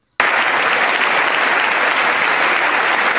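Sudden burst of dense, sustained applause from a large audience at a political speech, steady and loud for several seconds.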